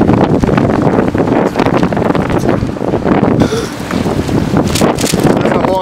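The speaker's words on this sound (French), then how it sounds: "Il y a du vent!" Heavy wind from Hurricane Sandy in Joliette buffets the microphone in a continuous loud roar, with gusts rising and falling throughout.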